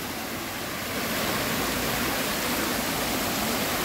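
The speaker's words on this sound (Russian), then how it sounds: "Это не бассейн, это фонтан." Steady, full splashing of a fountain's water falling into a pool, a constant broadband rush close by with no voices.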